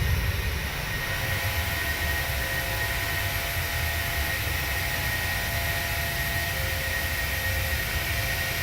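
Boeing 737 jet engines in the PMDG flight simulator spooling up for a go-around, a steady loud roar with a high whine held throughout, no talk.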